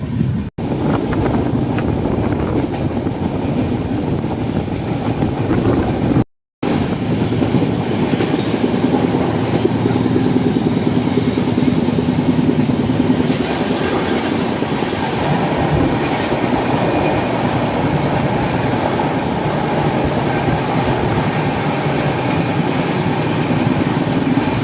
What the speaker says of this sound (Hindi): सामने से कोई ट्रेन भी जो है वो 130 की रफ्तार में आ रही है